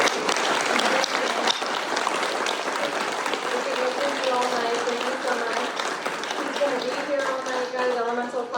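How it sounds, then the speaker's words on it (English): An event audience gives a speaker a round of applause, loud sustained clapping from a sizable crowd with voices and cheering mixed in, holding steady throughout. "Can we give Dave a round of applause?"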